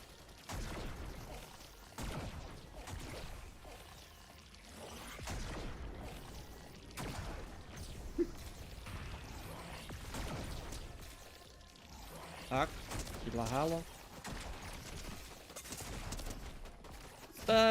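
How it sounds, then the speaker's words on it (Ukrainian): Bursts of gunfire in Fortnite crackle on and off at a distance, with sharper volleys near the end, over a constant noisy background. "майже позаду почали стріляти"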